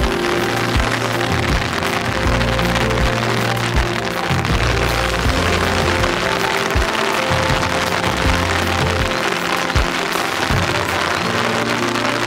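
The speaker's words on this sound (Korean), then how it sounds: "와 완전 갑자기 쏟아져. 이거 오래 갈 것 같아. 비." Sudden heavy downpour at an outdoor spot in the Dolomites, a dense steady hiss of rain pounding surfaces with low rumbling underneath, loud and continuous throughout with no talking.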